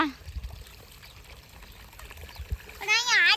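Irrigation water runs through a field channel in a faint, splashy trickle, nearby and uneven, while voices, one of them a child's, talk over it.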